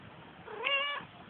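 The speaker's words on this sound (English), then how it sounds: "Sit here with the black kitty." A black cat gives a single short, clear meow up close, rising and falling over about half a second against a quiet indoor background hiss.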